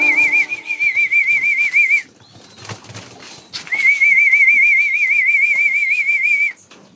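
A person whistles to call pigeons: two long, loud, warbling trilled whistles, each about two seconds, separated by a short pause with faint background noise.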